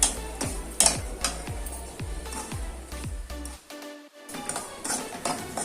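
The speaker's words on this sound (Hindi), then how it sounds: "और अब वो सूजी हमें इसमें डाल देनी है और इसे हमें लो फ्लेम पे ही अच्छे से सेक लेना है। इसको चलाते रहें" Semolina roasting in ghee over a low flame while a spoon stirs and scrapes the pan, with soft sizzling and regular metallic knocks early on, then continued close stirring after a brief gap.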